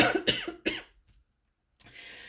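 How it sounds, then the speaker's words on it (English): A few short, harsh throat-clearing bursts in quick succession, close and loud, then a brief pause and one final softer rasp. "I'm so sorry for clearing my throat"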